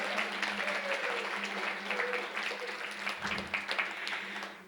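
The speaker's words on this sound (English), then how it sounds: "if you can clap for her, because she's wonderful" Audience applause for a guest speaker at a book talk, a steady wash of many hands clapping at moderate distance that fills the room for several seconds before tapering off.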